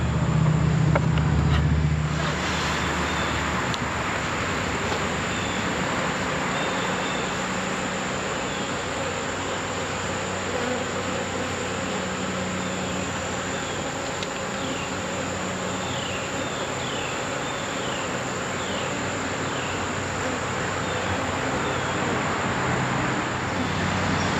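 Honeybees in an open, packed hive make a dense, continuous buzz close by, steady and loud throughout, with a brief thump at the start.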